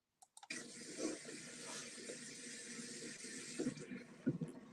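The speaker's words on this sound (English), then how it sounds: "Yeah, water pick." A water flosser starts after a couple of clicks and runs as a continuous hissing, spraying water jet at close range, with small gurgling and splashing shifts as it is moved.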